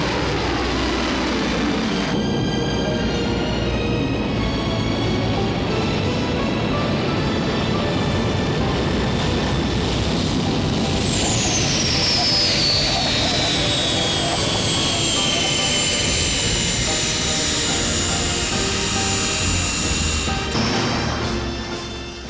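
Aircraft that are hybrids of airplane and helicopter, heard as a loud, steady engine roar with a rising whine and a sweeping pitch shift partway through, continuous for over twenty seconds.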